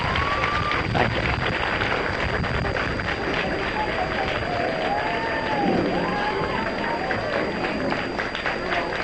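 An audience at Yeshiva University's 1977 commencement ceremony gives a sustained round of applause, a dense, even wash of clapping from a large crowd heard from a distance on an old, hissy recording.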